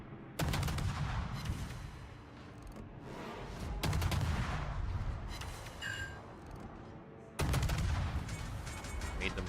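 Heavy naval guns firing back in World of Warships, three loud booming salvos spaced a few seconds apart, each rolling off slowly into a rumbling tail.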